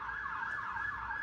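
Emergency vehicle siren wailing continuously, a loud rising and falling tone heard up close with a faint traffic rumble beneath.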